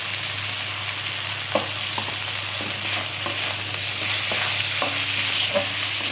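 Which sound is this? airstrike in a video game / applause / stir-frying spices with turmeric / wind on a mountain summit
stir-frying spices with turmeric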